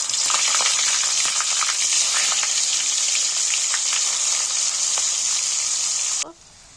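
Salted water boils hard in a wok as cauliflower goes in, a loud, continuous bubbling hiss with faint pops that stops abruptly near the end, leaving near silence.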